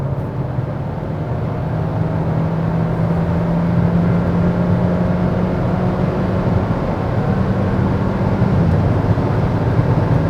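A 2020 Kia Seltos turbo engine hums steadily under acceleration, a loud, even drone with a faint whine that rises slightly in pitch, heard from inside the cabin with no talking.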